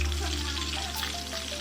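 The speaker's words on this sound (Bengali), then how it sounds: "এবং ইতিমধ্যে বেগুনগুলো ভাজা শুরু করে দিয়েছি।" Eggplant slices coated in turmeric, chili and salt fry in hot soybean oil, a steady, dense sizzle that holds close and constant throughout.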